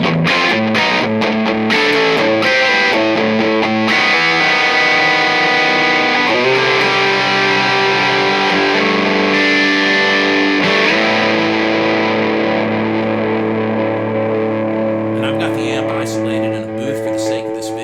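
An electric guitar runs through a Lounsberry Nigel distortion pedal, giving a heavy, saturated metallic tone with sustained chords and riffs that stay loud and dense throughout before trailing into a ringing sustain.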